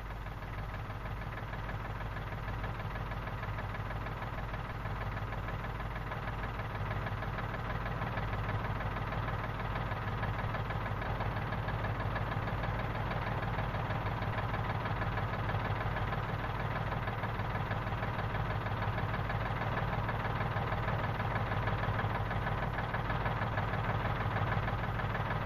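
A 1960s David Brown Selectamatic tractor engine idles steadily with a low, even diesel throb and faint knocking, heard close and unbroken while the plough is lowered, with no voices.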